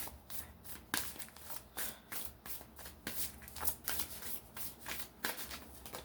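Tarot cards are shuffled by hand in a quiet, close series of crisp riffling bursts, repeating roughly every half second with no speech.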